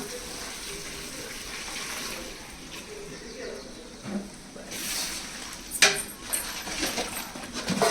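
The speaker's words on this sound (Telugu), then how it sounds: "ఇప్పుడు పెరుగు నీళ్ళు పోసేసుకుంటున్నా" Curd water pours into a cooking pot of turmeric curry, a close gushing splash heard alongside a few utensil clinks and voices talking.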